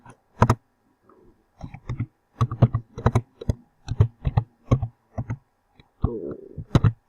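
Keys clacking on a computer keyboard while HTML code is typed, in irregular bursts of distinct clicks with short pauses, close and fairly loud, no talking.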